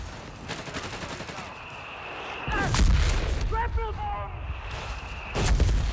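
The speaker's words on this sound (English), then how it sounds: "Mortars on all areas of the map." Mortar fire in the World War II strategy game Company of Heroes 3 sounds as heavy booming blasts, one around the middle and another near the end, over a rumbling battlefield background with brief muffled voice fragments.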